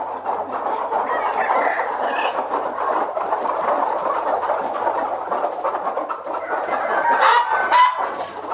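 Broody hens cluck continuously in a pen, a dense overlapping chorus of murmuring, grumbling calls close by, with a few sharper squawks toward the end.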